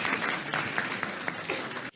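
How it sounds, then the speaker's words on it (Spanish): An audience applauds a teacher after her talk at a lecture on the China–United States trade war, a dense burst of clapping in a hall that stops abruptly after about two seconds. "Un aplauso, por favor, a la maestra Elsa"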